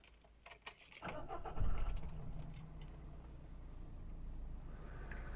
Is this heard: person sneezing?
no